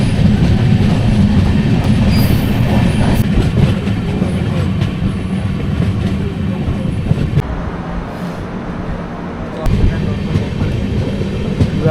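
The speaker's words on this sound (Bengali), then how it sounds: "একদম কারেক্ট টাইমে আমাদের ট্রেনটি ছেড়ে দিয়েছে শিয়ালদা স্টেশন থেকে" Passenger train running after leaving Sealdah station, with a steady loud rumble of wheels and carriage noise throughout, rhythmic clatter, and a brief dip before the roar surges back near the end; faint voices in the background.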